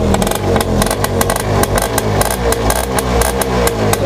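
A Yamaha Alfa motorcycle with a smooth-running piston engine revs repeatedly at close range, a steady loud mechanical drone broken by rapid throttle blips with no talking.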